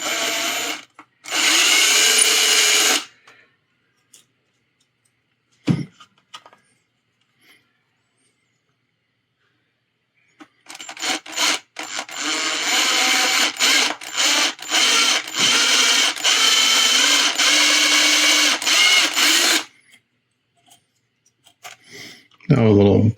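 A small power drill bores holes into a 1/60 NeoGrade Sazabi plastic model kit in two close, loud whirring bursts, a short one and a longer stretch with brief stops, separated by quiet.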